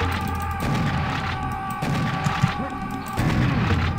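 Suicide bomber enemies exploding in the video game Serious Sam: The Second Encounter, repeated booming blasts and crashes in quick succession amid constant gunfire and a steady background hum.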